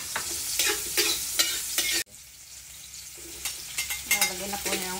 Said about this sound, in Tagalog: dito tayo magluluto sa pinagprituhan po natin